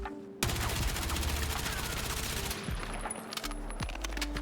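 Rapid full-auto bursts from a KORD 6P67 assault rifle in Battlefield 6, a dense run of about thirty rounds at a steady 900-per-minute clip, loud and close, with mechanical clatter ending in quieter shots.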